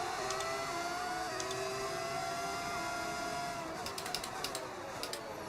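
A Formula 1 car in the racing game F1 25 gives a sustained high-pitched engine whine with shifting pitch, steady and loud, with brief clicks near the end and no talk.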